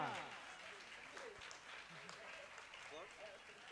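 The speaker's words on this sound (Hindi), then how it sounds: "जोरदार तालियां।" Audience applause at an award ceremony, faint scattered clapping under a talking voice and background crowd murmur.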